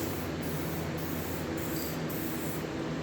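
Close, steady hiss of an aerosol spray can laying down a light coat of paint, with short rhythmic breaks between passes, loud and continuous without any talking.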